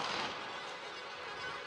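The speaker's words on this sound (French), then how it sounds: "Avec des jets de feux d'artifice." Fireworks set off at a farmers' protest in Brussels give a continuous, dense crackling roar that stays loud and steady throughout, with no clear separate bursts.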